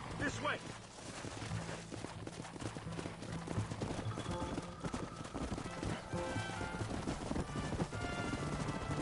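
Horse hooves clip-clop steadily in Red Dead Redemption gameplay, with occasional whinnies, under a continuous bed of game music and ambience at a moderate, fairly quiet level.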